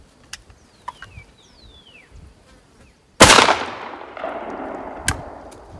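A 12 gauge shotgun fires a 3-inch buckshot reload at an outdoor range: one loud, sharp blast partway through, trailing into a long decaying echo, with a faint second knock after and quiet birdlike chirps beforehand.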